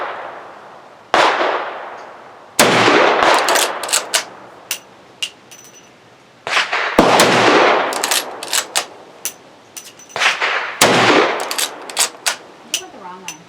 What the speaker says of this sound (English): So we'll shoot some more rounds through it.